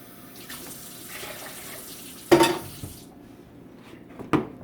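Water is poured into a cooking pot for barley, giving a soft running-water wash and then two sharp splashing clatters in a quiet kitchen.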